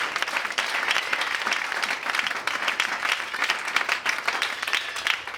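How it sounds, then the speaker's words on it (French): A church congregation bursts into loud, sustained applause, dense rapid clapping filling the room close by, with faint cheering voices mixed in. "Est-ce que le peuple qui a une grâce extraordinaire ce matin peut acclamer puissamment son Dieu?"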